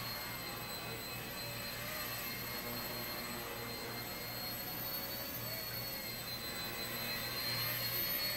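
Blade 70S small RC helicopter flying indoors, its motor and rotor giving a steady high whine with a faint low buzz, continuous and fairly quiet, no talking.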